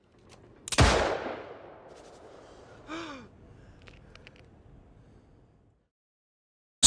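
A single loud pistol shot cracks close by, its sharp burst trailing off over about a second. A short breathy gasp-like sound follows, then near silence, in a Chicago gang setting.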